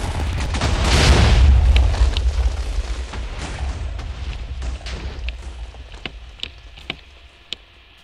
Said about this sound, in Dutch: kijken hoe het ontploft